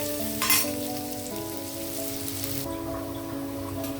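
Onions frying in oil until brown, a fairly quiet even sizzle with a short louder spatter early on and a faint steady tone running underneath.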